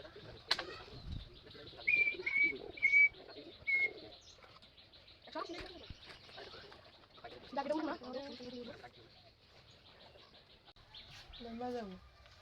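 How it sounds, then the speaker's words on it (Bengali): Pet pigeons at home coo and chirp in soft, repeated calls, with a few wing flaps, close by while someone talks over parts of it. "এই যে দেখেন আমাদের বাড়ির সর্বপ্রথম কবুতর"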